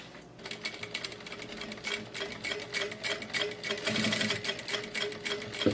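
Sewing machine running a topstitch seam on a bag, a close, continuous fast mechanical chatter with steady needle clatter that swells slightly toward the end, heard alone.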